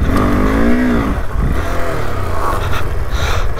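A motorcycle struggles up a steep mountain climb on the new route to Shashi La via Hamboting La in Ladakh, its engine loud and close, revving in rising and falling strained sweeps.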